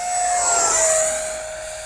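A single-jet RC rocket plane roars overhead with a loud, high whine, swelling in the middle and slowly fading as it passes.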